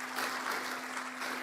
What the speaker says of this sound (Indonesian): kita berikan tepuk tangan yang meriah beliau.